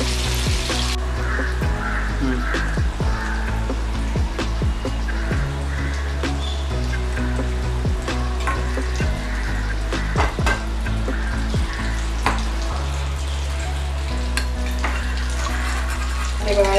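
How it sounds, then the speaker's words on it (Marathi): Chicken nuggets frying in oil in a pan, a steady bubbling sizzle running close and continuous throughout, with faint background music underneath. "खूप छान असे परतून असं गुलाबी रंगावर फ्राय करून घ्यायचे"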